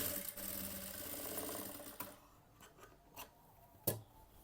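Sewing machine stitching lining cloth for a prince-cut blouse: a fast, close whirring run that stops after about two seconds, followed by a few sharp clicks and handling taps.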